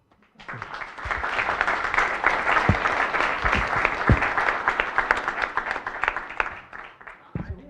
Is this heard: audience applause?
yes